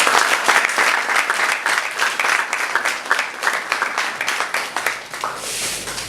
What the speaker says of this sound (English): we need also to give them a very big round of applause